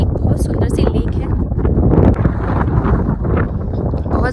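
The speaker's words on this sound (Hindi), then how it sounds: "हवा बहुत तेज चल रही है" Strong, cold mountain wind at Rohtang Pass buffets the microphone in a loud, continuous roar with gusty surges throughout, and no clear voice above it.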